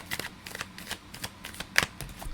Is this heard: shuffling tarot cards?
yes